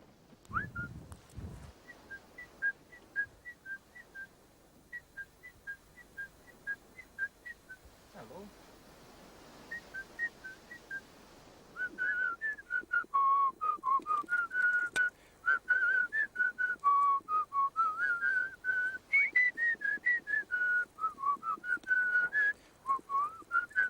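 A person whistles a series of short repeated notes, then longer sliding rising and falling tones to attract Wilson's storm petrels in Antarctica, fairly close and steady over a quiet background.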